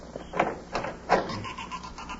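An old wooden door creaks open in a radio drama, two drawn-out groaning squeals close by, with no talking over them.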